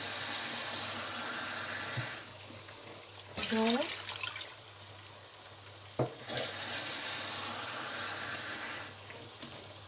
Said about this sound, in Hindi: तो यहाँ डालेंगे पानी